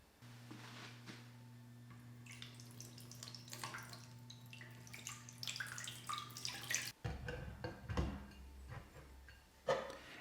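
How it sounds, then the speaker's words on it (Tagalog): Tap water runs into a cooking pot in a home kitchen, a steady close hiss with drips and clatter after the flow stops, with no talking. "Kukuha lang ako ng tubig at iinitan ko na rin itong ating lutuan."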